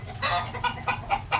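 A fighting rooster clucks in a short run of close, moderately loud bursts against a low steady background hum.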